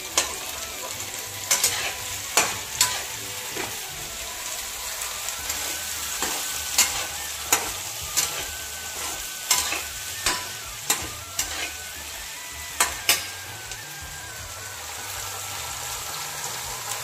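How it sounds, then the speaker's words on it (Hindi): Capsicum, onion, peas and cauliflower fry and sizzle steadily in a pan while a spatula scrapes and taps through them in regular strokes, close and clear with no talk. "फ्राई कर रही हूँ। शिमला मिर्च, प्याज, मटर, गोभी के फूल"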